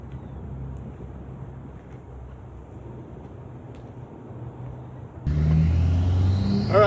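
A Ford F-250 pickup fitted with wheel spacers on a test drive, heard from inside as a low, steady engine and road rumble with some wind, growing louder and fuller near the end as it accelerates.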